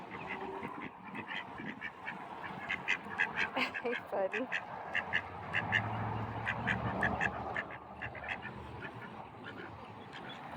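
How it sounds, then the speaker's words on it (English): Ducks quack repeatedly in a small park, a steady run of close, bright calls with a few louder bursts, while a person talks quietly over them. "Listen to them quacking."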